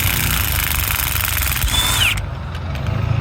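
Power tool with a socket spinning off bolts on an engine with a suspected broken cylinder head, a loud close whirring buzz that winds down with a brief rising whine before cutting out.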